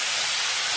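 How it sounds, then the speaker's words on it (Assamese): Tomatoes coated with salt and turmeric hit hot oil for a tomato and ghost pepper fish curry, giving a brief, steady broadband sizzle and hiss with no talking. "তেলটো গৰম হোৱাৰ লগে লগে এইখিনি এটা ঢালি দিলোঁ"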